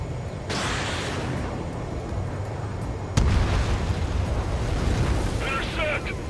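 Anti-air fire and explosions in Ace Combat 7, a steady roar of blasts and rumbling booms with a sharp burst partway through and crackling bursts near the end, dense and loud throughout.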